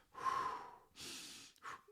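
Slow, close breathing as a focusing exercise: a long inhale-exhale, a second airy breath, then a shorter third puff, with no talk.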